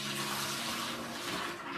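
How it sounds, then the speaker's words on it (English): Water pours steadily out of a container, a close, continuous splashing gush with no break for the whole moment. "I'm about to dump some of that water out because I don't want it to overflow"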